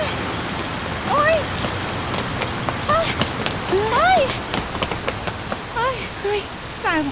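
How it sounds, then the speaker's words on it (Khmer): Steady rain hisses loudly and continuously across the whole stretch while people talk over it. "អើយភ្លៀងហើយ"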